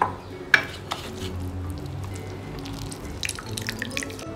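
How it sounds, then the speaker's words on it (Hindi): Water from squeezed grated bottle gourd drips and trickles into a bowl in a home kitchen, steady and close, with a soft splash, a few light clinks and faint rustling. "मैंने लौकी में से पानी इस तरह से अच्छे से स्क्वेज कर लिया है।"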